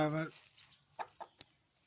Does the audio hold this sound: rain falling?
no